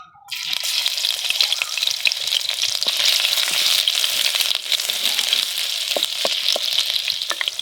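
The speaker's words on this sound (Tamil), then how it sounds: "எண்ணெயை ஊற்றிட்டு இதெல்லாம் போட்டு தாளிக்கணும்." Ginger and garlic sputter in hot oil being tempered, a dense, close, bright sizzle that starts abruptly and holds steady with scattered crackles and stirring, no talking.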